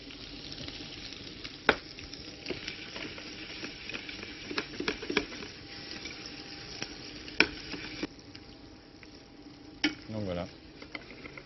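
Vegetables frying in butter in a pan after chicken has caramelised. There is a steady close sizzle with scattered clinks and scrapes of stirring. A brief louder burst of sizzling comes near the end, and no one speaks.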